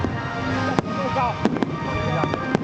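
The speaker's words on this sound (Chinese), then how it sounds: "我们今年灯会最后一趴的烟火献给大家了" Fireworks at the final show of the 2011 Kaohsiung Lantern Festival: a steady crackling roar with several sharp bangs standing out, under crowd noise.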